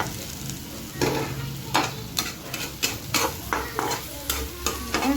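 Lesera potatoes stir-fried in a pan, with a spatula scraping and stirring in repeated strokes over a steady close sizzle of frying oil, no voices.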